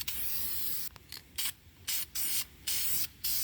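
International Harvester Red paint sprayed as a dust coat while restoring a vintage Graco air hose reel: a close, loud hiss that cuts off and restarts in several short bursts separated by brief pauses.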